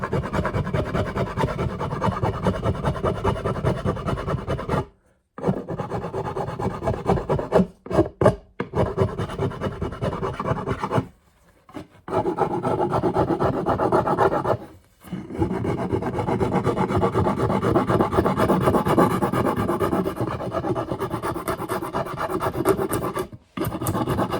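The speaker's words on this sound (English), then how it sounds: "I'm actually down to using these curved files. And this is just for contour." A curved file rasps steadily against wood in long back-and-forth strokes, pausing briefly now and then before the scraping resumes.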